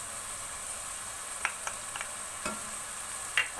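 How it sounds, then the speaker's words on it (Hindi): Keema frying in a pan with tomatoes and yogurt being stirred in: a steady soft sizzle with a few quiet scrapes and clinks from the spoon, alone and close. "अच्छे से मिक्स करेंगे इसको"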